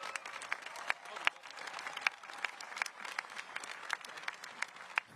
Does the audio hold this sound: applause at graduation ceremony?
yes